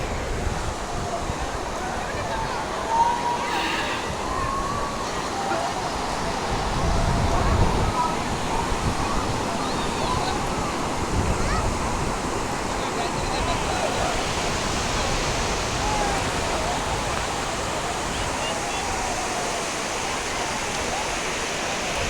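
Sea waves at Digha beach roll in as a continuous broad roar of surf, loud and steady, with a slightly heavier swell midway.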